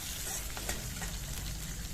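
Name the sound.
cumin and garlic tempering sizzling in mustard oil, iron kadai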